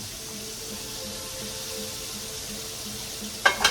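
Pork chops in batter sizzle and fry in a skillet, a steady broadband hiss that runs throughout at moderate level, with a couple of louder crackling pops near the end.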